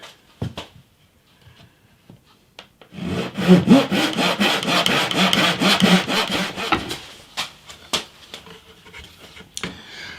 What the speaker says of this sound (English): I will say there's something immensely satisfying about making your own fretboard, cutting the slots